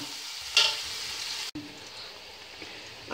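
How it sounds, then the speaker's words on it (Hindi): Onions sauté in a pan for Afghani pulao, a steady soft sizzle with a brief scrape of stirring near the start and a short clatter partway through, close and alone. "प्याजों का हमने कच्चा पन दूर करना है,"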